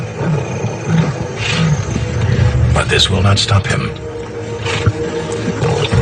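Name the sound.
male lions roaring during a fight over a carcass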